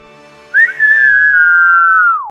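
A single long, clear whistle given as a signal from a boat, rising quickly, holding a steady pitch for nearly two seconds, then dropping away, loud and close.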